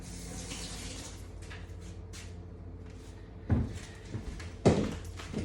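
Tap water runs into a sink while fingers are washed, then a few close knocks and thumps sound as the flow eases.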